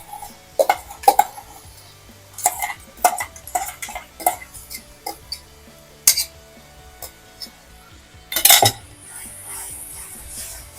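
Gongura leaves stirred into a paneer curry in a pan, with a run of sharp scraping and clinking strokes of a spoon against the metal, some soft knocks, and a louder clatter near the end.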